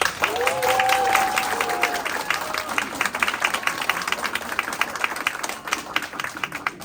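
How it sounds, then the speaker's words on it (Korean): Crowd applause at a Korean political campaign event for a parliamentary candidate declaration, loud dense clapping that thins toward the end, with a brief voice or tone near the start. "여러분 박수 한번 보내주십시오."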